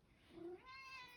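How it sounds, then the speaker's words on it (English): A house cat gives a single short, rising-then-falling meow, quiet and close, with no other sounds around it. "Every time I've sat down to do a video, she's turned up meowing at me"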